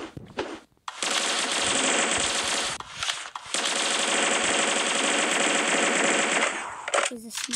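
Sustained rapid automatic gunfire from a gun in a video game, one long loud burst after a short opening shot, then a second extended burst, close and dominant.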